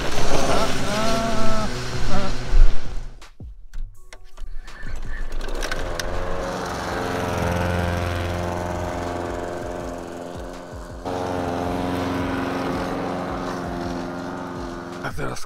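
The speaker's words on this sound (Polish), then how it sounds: "A teraz koszonko, ale" A lawn mower cuts grass on a bright day, its steady engine drone running loud and close for most of the stretch after a burst of rattling noise at the start.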